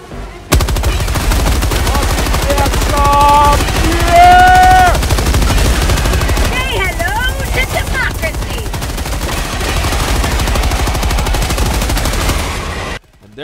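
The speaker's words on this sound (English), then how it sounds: "For those who enjoy the style I personally have a thing for, which is machine guns, I'll show you this." Sustained machine gun fire in the video game Helldivers 2, loud and continuous rapid bursts over a layered battle soundtrack with brief tonal game sounds mixed in.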